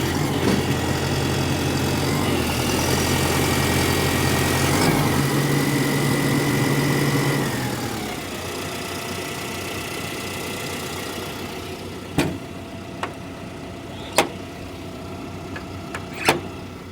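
A heavy machine's diesel engine idles with a loud, steady low rumble that drops to a quieter idle partway through, followed by a few sharp metallic knocks or clicks near the end.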